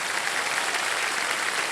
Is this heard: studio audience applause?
yes